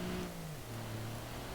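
Small 660cc turbocharged engine of an Ibishu Chisai revving in BeamNG.drive, a steady buzzing drone that dips in pitch partway through, fairly faint and alone.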